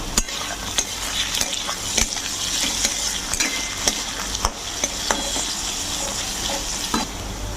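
Grated ginger and spices fry in a pan for spicy pasta, with a continuous close sizzle and regular sharp clacks as a spatula stirs and scrapes, and no talking.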